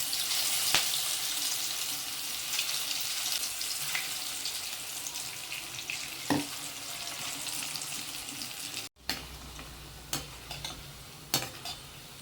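Toor dal vadas deep-fry in a pan of oil with a steady, close sizzle. Occasional sharp clinks from turning come through, and there is a brief cut partway through.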